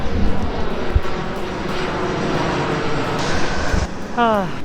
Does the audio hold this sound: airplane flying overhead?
yes